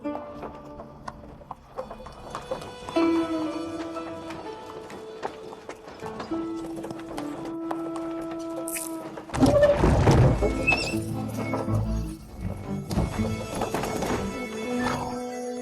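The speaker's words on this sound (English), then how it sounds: "Sir, the horses are scared by something." Horses shift about with hoof clops and snorts, then a loud burst of frightened neighing and stamping breaks out midway, staying busy and agitated.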